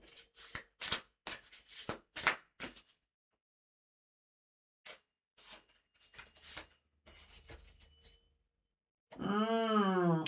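Cards from a Cost of Becoming oracle deck are shuffled in several quick riffling bursts, then softer scattered shuffles follow after a pause, ending with a brief louder unrelated tone.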